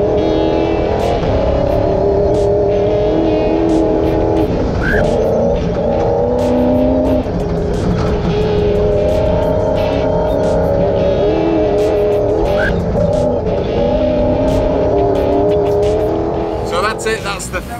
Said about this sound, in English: That's my first time in the car under race conditions with Terence, and wow, it's hectic